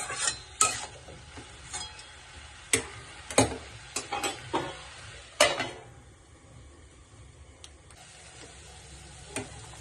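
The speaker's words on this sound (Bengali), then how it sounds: "দেখুন ভাজাটা হয়ে এসছে এবার আমি ভালো করে নাড়া দেবো" A spatula scrapes and clacks against a pan while potato and spring onion fry, with irregular sharp stirring knocks over a faint sizzle and quieter gaps between strokes.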